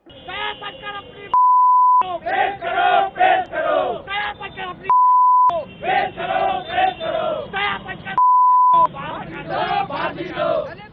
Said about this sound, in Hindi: जिन शब्दों का इस्तेमाल कर रहे हैं उन्हें बीप के बिना आप तक पहुंचाया नहीं जा